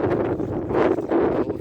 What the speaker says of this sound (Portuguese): o vento que não deixa a gente sossegar